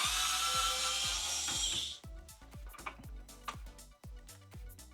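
Two 10mm bolts being backed out of the taillight on a 2019–2025 Toyota RAV4 with a power tool: a loud continuous whir for about two seconds, then a run of sharp ratcheting clicks and short bursts, close up with no talk.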